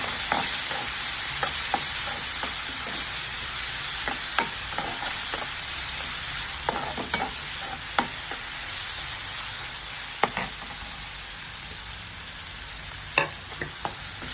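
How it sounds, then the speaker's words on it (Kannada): Chopped onions with curry leaves sautéing in a hot pan, a continuous close sizzle broken by repeated scraping and stirring clicks of a spatula. "ಈರುಳ್ಳಿ ಹಾಕ್ಕೊಳ್ಳಿ, 2 ನಿಮಿಷ ಬಾಡಿಸ್ಕೊಳ್ಳಿ."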